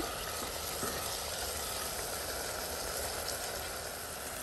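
Prawns frying in a pan for a green roast produce a continuous dense sizzle, fairly soft and even from start to finish, with no speech over it.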